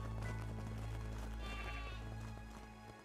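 Sheep bleating in the Craftopia video game, a few close bleats over steady game music and ambient tones, fairly loud and continuous through the clip.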